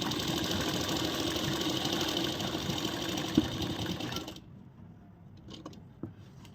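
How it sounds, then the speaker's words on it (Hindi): Sewing machine stitching elastic into the waistband of palazzo pants, a steady close mechanical whir running continuously for several seconds before stopping abruptly, leaving faint handling clicks in near silence. "और इस तरह पकड़ते हुए पूरे में सिलाई लगाएंगे।"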